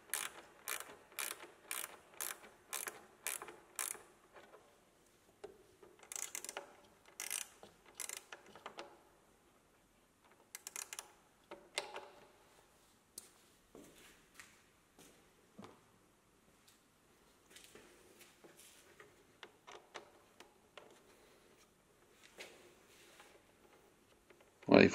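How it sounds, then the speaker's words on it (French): A ratchet screwdriver clicks in quick, rhythmic bursts while backing out Torx screws at the base of a Husqvarna Norden 901 motorcycle's GPS arm, with several separate runs of close, crisp ratcheting and quiet gaps between. "on dévisse de chaque côté à la base du bras GPS"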